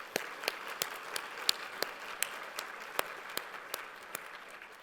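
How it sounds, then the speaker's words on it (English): Guests at a holiday party and awards event applaud for several seconds, with a steady patter of clapping and a few louder individual claps standing out. "let's give him one more big round of applause"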